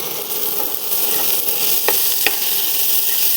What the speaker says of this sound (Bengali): আমি এখানে খানিকটা তেল নিয়েছি, তেলটা গরম, পেঁয়াজ দিয়েছি